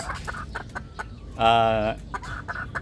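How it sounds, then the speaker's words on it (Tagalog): Young pullet hens clucking up close in a backyard chicken coop, with one loud drawn-out squawk in the middle and softer scattered clucks around it. "dito naman puro mga dumalaga na"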